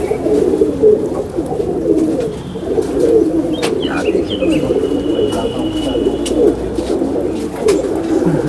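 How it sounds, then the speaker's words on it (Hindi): Fancy pigeons of the Imamdeen breed cooing in a loft, a low steady murmur of soft repeated coos running throughout, with a few faint brief chirps above. "ये इमामदीन कबूतर है।"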